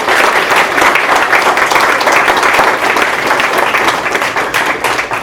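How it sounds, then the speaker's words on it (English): Loud, dense applause from an audience at a school board meeting honoring students, many hands clapping steadily throughout and tapering slightly near the end. "So a huge round of applause"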